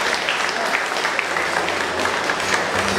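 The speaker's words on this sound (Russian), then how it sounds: "Давайте поаплодируем." Dense crowd applause at a boxing event, a steady, loud patter of many hands clapping at once, continuous and even with no pauses.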